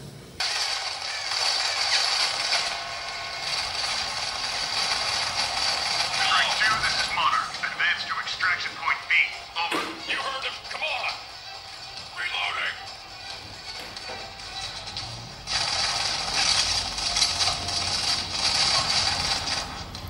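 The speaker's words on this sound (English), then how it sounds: "Now next, let's play Modern Combat." Modern Combat plays on a Xiaomi Redmi Y1 phone: a continuous game soundtrack with rattling, mechanical gunfire-like bursts and clanks that rise and fall over twenty seconds, fairly loud and without talk.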